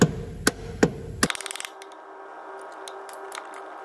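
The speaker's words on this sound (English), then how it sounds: "we'll give it a really light knock just with a copper hammer" A few sharp metallic taps from a copper hammer ring out on a 2015 Seat Leon 1.6 TDi engine part, followed by a quick run of lighter, rapid knocks that fade into a quiet hum.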